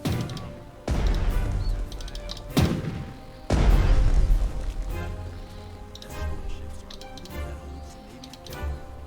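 Naval guns boom during a Coral Sea battle in Strategic Mind, with three heavy, deep blasts spaced a second or two apart, then fading rumble and lighter background effects.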